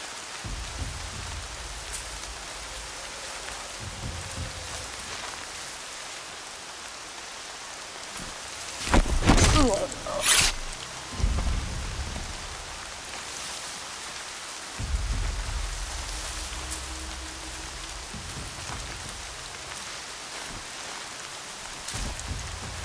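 Steady rain falls in the video game Horizon Zero Dawn, a continuous hiss of drops with a couple of louder bursts and rumbles partway through, and no voices.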